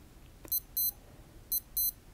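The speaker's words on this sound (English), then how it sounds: "The beep is, I guess, about as loud as Casio watches get" A Casio F-201WA wristwatch alarm test sounds two pairs of short, thin electronic beeps, quiet and close, against faint background noise.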